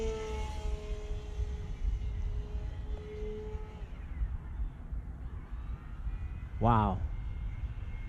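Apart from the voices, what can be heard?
P-51 airplane engine in flight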